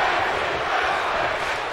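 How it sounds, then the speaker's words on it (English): A WWE 2K video game arena crowd chanting in a continuous, dense wall of voices, loud and steady throughout without any clear break. "Crowd is chanting, that's impressive."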